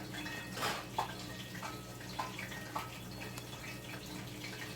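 A kitchen tap runs water for Jamaican fried dumpling dough, a soft steady stream with a few faint splashes and clinks, quiet and close, with no voices.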